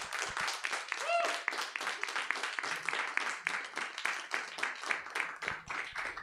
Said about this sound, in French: je vous demande d'applaudir comme il se doit